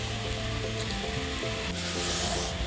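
Two or three cloves frying in hot ghee in a pan make a constant dense sizzle, loud and close, with faint scraping rubs layered on top.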